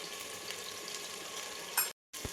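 Pav bhaji masala with tomato paste and byadgi red chilli powder fries in a pan, a close steady hiss of sizzling oil that ends abruptly in a short silence before resuming.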